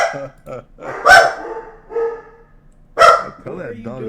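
A dog barking in sharp, short bursts, several close barks spaced apart, with someone talking between and around them.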